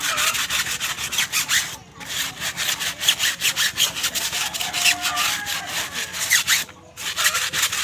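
The edges of an old tire are brushed with a stiff brush in quick, rhythmic scrubbing strokes, close and continuous, with two short pauses.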